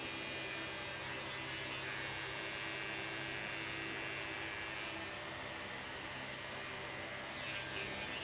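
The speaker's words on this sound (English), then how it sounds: "guide the hairs again into the clipper blade." Electric hair clippers buzz steadily while cutting short hair over a comb for a pixie cut, a constant close whine with faint fan noise beneath and no talking.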